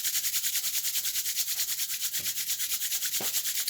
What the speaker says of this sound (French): vous allez venir frotter vos mains pour que ça chauffe.